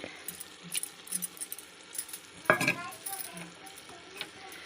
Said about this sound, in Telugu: మసాలా వేపిన తర్వాత ఆయిల్ తేలిన తర్వాత ఇప్పుడు పెరుగు వేయాలండి